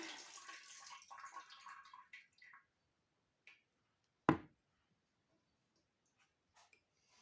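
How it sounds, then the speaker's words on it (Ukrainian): Water pours and trickles softly from a jar of pickled cucumbers for a couple of seconds, then stops. A single sharp clunk follows in the near silence. "Зливаємо воду."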